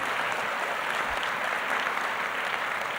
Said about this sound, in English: may we have one more round of applause for our superintendent